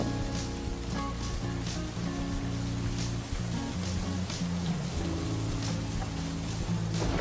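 Steady rain falls continuously on a surface, a dense even patter heard throughout alongside a constant tonal music bed.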